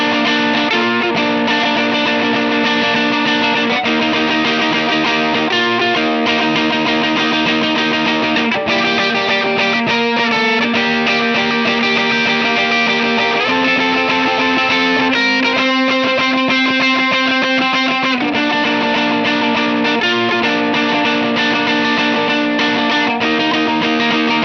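Electric guitar played through a Line 6 Helix on its core-tone snapshot: a continuous, distorted, chorused worship-style part with sustained chords and melodic lines, loud and steady throughout with no voices.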